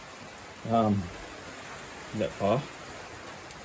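Light rain falls outdoors as a faint, steady hiss that runs throughout, with short bursts of a man's speech over it.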